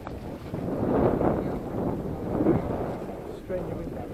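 Wind blowing across a sailing lake where model yachts are raced, a steady broad rush in the microphone that swells and eases in slow gusts, fairly loud throughout.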